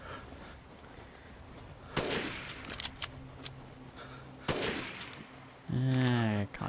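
Sharp gunshots in the horror game Resident Evil 8 inside a dollhouse area, a few separate loud cracks spaced apart over quiet ambience, followed by a brief tonal game sound.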